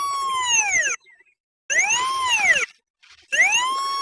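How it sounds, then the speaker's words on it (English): A Pipehorn 800 Series pipe locator receiver sounds three loud, strong beeping tones, each about a second long with a rising-and-falling pitch and short silent gaps between them. "There, a beeping tone, very strong signal, indicating our signal strength is spiked."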